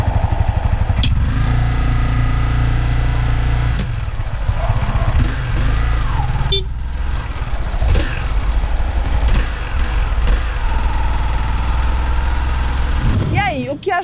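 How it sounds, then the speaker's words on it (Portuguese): A Honda CB 250 Twister 2020 motorcycle runs with its engine idling close by, a steady low rumble under which its drive chain clatters, interrupted by a few sharp knocks and rattles near the end. "eu vou deixar vocês ouvirem o som da corrente"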